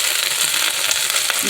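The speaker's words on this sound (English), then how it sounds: "you hear it sizzling and cooking" Vegan cabbage sizzles and crackles while being stir-fried in a pan, a dense, steady hiss of frying close up, with no voices over it.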